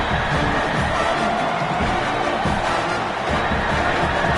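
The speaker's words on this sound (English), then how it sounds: "Listen to this crowd just shaking the girders of this place, trying to help their defense." A college football stadium crowd, Ohio State at home, makes a dense, continuous roar of noise and cheering that fills the whole few seconds at a steady level.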